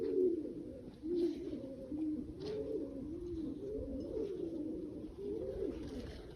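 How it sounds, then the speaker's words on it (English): Steady, repeated low cooing of pigeons on Ilkley Moor, North Yorkshire, several overlapping calls rolling on continuously at close range with faint background noise. "Apart from the pigeons you can hear cooing."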